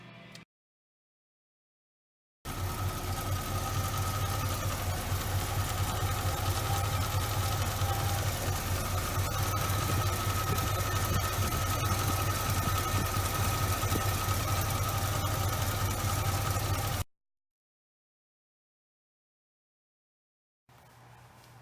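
A 1969 Mustang with a 351 Windsor V8, freshly fitted with a new water pump, idles steadily with a deep low rumble and constant mechanical hum for about fifteen seconds, with no one talking.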